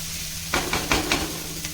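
Sliced onions sauté in a pan for red poha mint upma, with about four sharp spatula scraping strokes over a steady, close sizzle.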